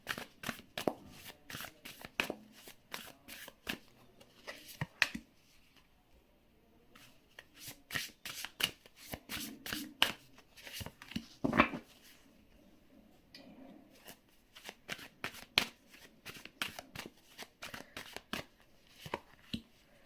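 A tarot card deck is shuffled by hand in repeated quick riffles and soft slides, crisp clustered bursts separated by brief pauses, close and quiet with no talking.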